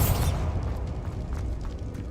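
Bombarda blasting spell in the game Hogwarts Legacy: a heavy boom opens the clip and then decays into a low, rumbling tail of debris and dull echo, with no voices present.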